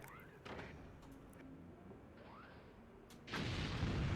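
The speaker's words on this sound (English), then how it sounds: "combined warheads firing together" Warheads fire and boom in the Forts RTS strategy game, with faint whooshing launches and a low rumble building into a loud, dense burst of explosions near the end.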